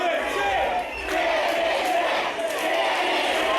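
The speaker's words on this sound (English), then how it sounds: "Oh, and the crowd chanting" A wrestling crowd at an LDN London Eye show chants loudly and steadily in a rhythmic, roaring mass of voices that fills the whole stretch without a break.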